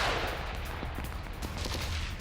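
Gunfire crackles steadily during Ukrainian soldiers' attack on Russian trenches, a dense run of sharp shots over a continuous rumbling background with no speech.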